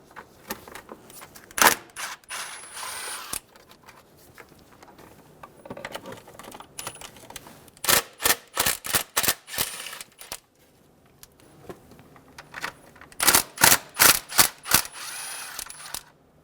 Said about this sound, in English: We're going to remove the 10mm bolts for the intake box.